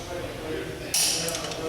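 The torque wrench on a wheel's lug nuts gives a sharp metallic click near the middle, ringing briefly against a low background rumble.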